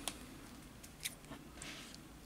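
Scissors snipping a small piece of blue double-sided tape, with a couple of sharp close clicks and quiet handling rustle in between.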